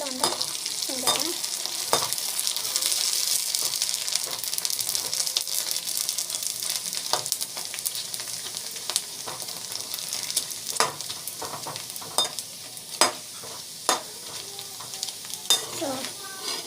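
Papad frying in hot oil in a pan gives a continuous bright crackling sizzle with scattered louder pops, steady and close throughout, with no talking.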